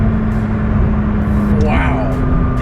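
A McLaren 600LT sports car pulling hard, its engine droning steadily and then rising in pitch as it accelerates, heard from inside the cabin with a voice talking over it.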